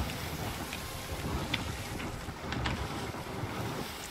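A sailboat moves across open water in a video game, with steady wind and ocean wash rolling continuously and faintly. No one speaks over it.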